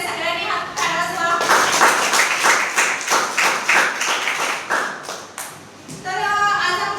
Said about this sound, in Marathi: सगळ्यांनी हात टाळ्या वाजवा.